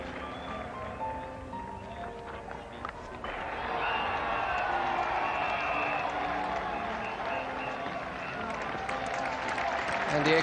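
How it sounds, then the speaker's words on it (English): Cricket crowd at Lord's in a 1984 England versus West Indies Test applauds a batsman reaching fifty, broad sustained clapping and cheering swelling louder partway through under a commentator's voice. "And the extra applause now for Gordon Greenidge reaching 50 out of a total of 77."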